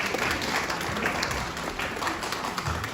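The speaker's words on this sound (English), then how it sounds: "If you did, give them a round of applause." Applause from the audience after a panel discussion at a community event in Leicester, a continuous, fairly loud crowd clapping that carries on steadily for a few seconds without talk.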